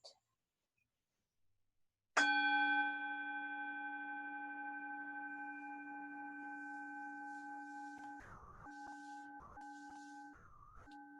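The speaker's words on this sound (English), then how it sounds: "And I'll go ahead and ring the bell to start." Meditation bell struck once to open a sitting, a clear bright ring that sustains and slowly fades over several seconds, with a few soft breathy sounds over the tail.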